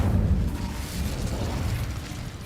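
An Incendio fire spell cast in the video game Hogwarts Legacy gives a loud, broad roaring whoosh that holds steady for about two and a half seconds, with no talking.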